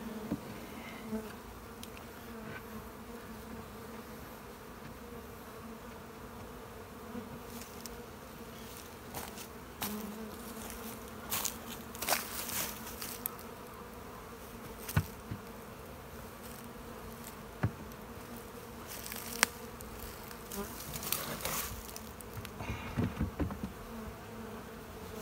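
Italian honey bees fill the air with a steady, layered buzz right after a package installation, droning continuously at close range with occasional louder passes as individual bees fly near.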